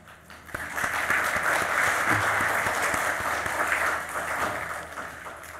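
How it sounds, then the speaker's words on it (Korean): A Korean church congregation in Chile claps to welcome a visiting deacon during Sunday worship, a sustained, even round of applause filling the hall before tapering off near the end. "우리 박수로 환영해 주시겠습니다."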